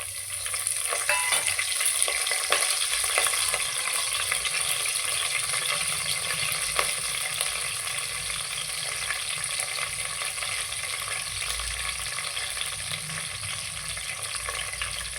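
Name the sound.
curry leaves and spices spluttering in hot oil for soya biryani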